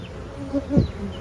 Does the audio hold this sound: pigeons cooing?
no